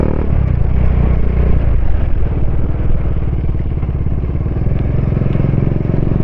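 Bajaj Dominar 400 motorcycle fitted with an Akrapovic exhaust, a loud, close engine throbbing with a rapid, even pulse and deep rumble, growing slightly harsher partway through.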